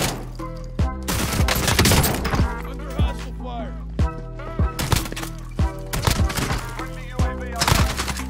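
A Gallo SA12 semi-automatic shotgun fitted with an agency choke fires in Warzone, sharp punchy blasts repeated roughly every second with some quicker pairs, each shot ringing briefly and loud up close.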